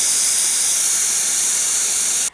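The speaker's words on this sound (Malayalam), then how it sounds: "ഇതിൻ്റെ ആവി സാവധാനത്തിൽ പോയിക്കോട്ടെ" A pressure cooker with beef inside vents steam in a loud, steady, high hiss that runs unbroken at close range, then cuts off abruptly at the end.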